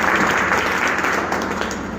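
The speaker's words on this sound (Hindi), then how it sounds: "एक बार जोश और जुनून के साथ पहले स्वागत के लिए तालियां बजा दें।" A crowd at a rally applauds with dense, sustained clapping that fills the space evenly and stays loud throughout.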